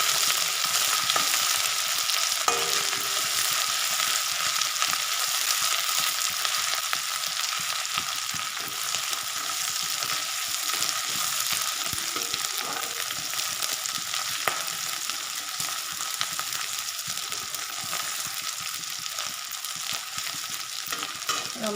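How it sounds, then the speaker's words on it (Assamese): Garlic and ginger fry in a pan with a steady, bright sizzle throughout, broken by occasional stirring scrapes. "এতিয়া এড কৰিছোঁ ৰচুন আৰু আদা। এইখিনি সম্পূৰ্ণ কেঁচা গোন্ধ যোৱালৈকে ফ্ৰাই কৰি ল'ম।"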